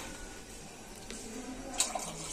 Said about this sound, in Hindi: ये देखिए अभी पानी डाल दिया इसमें